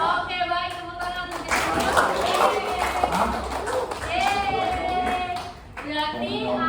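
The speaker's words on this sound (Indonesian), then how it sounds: "tepuk tangan" Students in a high school classroom clap on request, a brief ragged burst of hand claps mixed with chatter and children's voices throughout.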